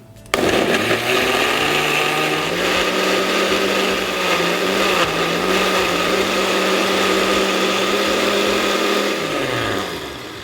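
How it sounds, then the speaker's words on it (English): A blender whirs loudly at a steady high pitch for about ten seconds, then winds down as it is switched off. "So all that is going to go in my blender. And we are going to start it up."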